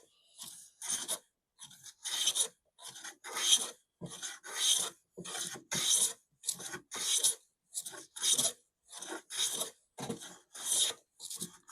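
A vintage hand plane iron is sharpened with rhythmic back-and-forth strokes on a sharpening stone, a steady series of close, gritty rasping scrapes, roughly two per second, with no talking.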